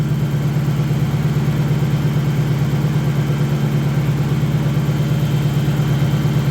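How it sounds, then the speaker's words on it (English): Toyota 1UZ V8 engine idling steadily after a cooling system rebuild, a deep, even, rumbling drone with a constant low pulse throughout, close by and with no talk. "I'm gonna let it run for a minute and get a little heat in the engine."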